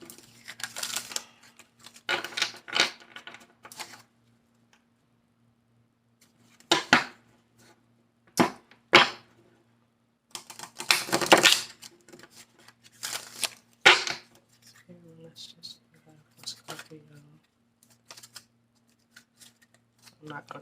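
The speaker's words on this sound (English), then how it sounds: "I'm not going to take these because I'm still shuffling." Tarot cards are shuffled by hand in several short riffling bursts separated by quiet pauses, close and crisp, with a person speaking between the bursts.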